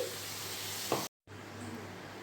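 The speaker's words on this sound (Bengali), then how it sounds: "এবার আমি ধনে পাতা আর পুদিনা পাতাটা যে পেস্ট করেছি সেটা দিয়ে দিচ্ছি।" Mint and coriander leaf paste goes into a frying spice masala, giving a soft, steady sizzle with a brief stirring scrape. The sound cuts out abruptly for a moment, then the quiet frying resumes.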